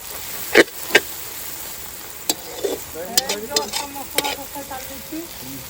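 Onions fry in a pan with chili powder added while a village-style desi chicken curry is cooked, a soft sizzle broken by several sharp spoon clinks and scraping stirs, with a few brief vocal sounds.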